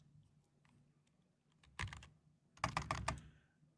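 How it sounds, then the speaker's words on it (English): Keys on a computer keyboard clatter in two quick bursts of typing, close and crisp in a quiet room. "This moment of typing"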